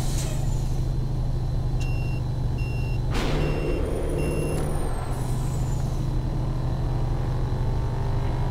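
A truck in American Truck Simulator lets out a sharp hiss of its air brake, then steady reversing beeps sound a few times over a constant low diesel engine drone, with no one talking.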